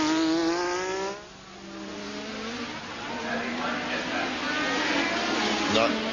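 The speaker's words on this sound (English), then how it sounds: "Nice, healthy sounding engine." A racing car engine drives past on the Adelaide street circuit, its high, buzzing note rising and falling as it changes gear and closes in before passing, heard under a commentator's talk.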